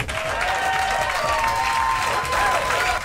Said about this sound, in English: I'm letting the audience applaud this victor. Okay, I pushed the button for the audience.